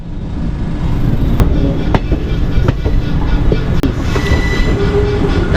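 A passenger train on the Secunderabad to Guntur line in Andhra Pradesh rolls along loudly, heard from on board, with a constant rumble, rail clatter and several sharp clicks and squeals from the wheels.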